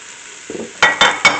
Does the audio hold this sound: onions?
yes